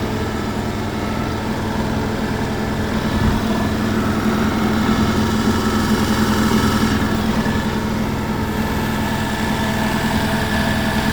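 A Beko WMY81283LMB2 washing machine in an unbalanced spin cycle gives off a loud, continuous, low motor rumble and vibrating drone that stays steady throughout with no voices.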